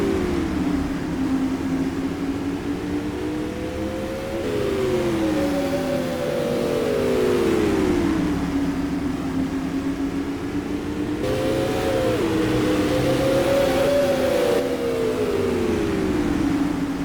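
Non-wing supermodified race cars circling a track at a Gold Crest championship feature, engines rising and falling in pitch as they pass in a loud, continuous drone with overlapping whines.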